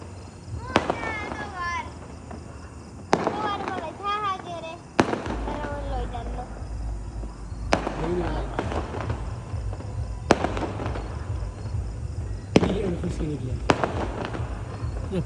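Fireworks bursting outdoors during a tour in Nepal, with several sharp, loud bangs and crackling bursts spaced irregularly across the clip, while people talk nearby.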